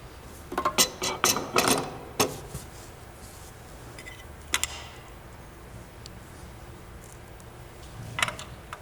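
A ratchet clicks in short close bursts while screws are driven in during setup of an Autel IWA500 wheel aligner, busy at the start, then sparse single clicks across a quiet room.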